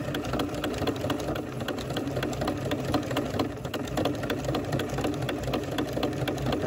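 A sewing machine runs continuously, close and steady, its needle rattling rapidly as it stitches a fabric-wrapped coiled rope bowl.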